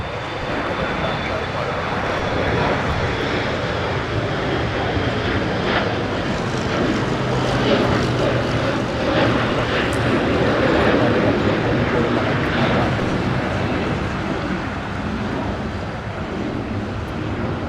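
An airliner taking off from runway 25 at LAX makes a loud, sustained engine roar that fills the whole stretch, with faint radio chatter beneath.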